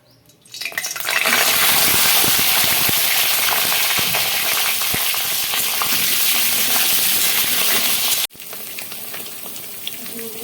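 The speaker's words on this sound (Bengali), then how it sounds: "এখন এই পটলগুলো দিয়ে 2 মিনিট ভেজে নেব ভালো করে" Pointed gourd (potol) frying in hot mustard oil in a wok, a loud steady sizzle that swells after a second and holds, dropping sharply near the end to a softer crackle.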